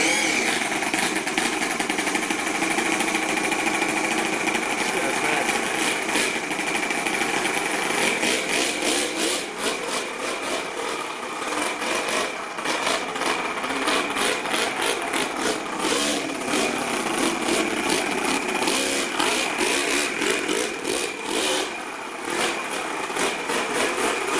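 Four-cylinder four-stroke nitro RC engine in a rat rod build, running steadily on electric start with a continuous buzzing, raspy drone that wavers slightly in pitch throughout, loud and close.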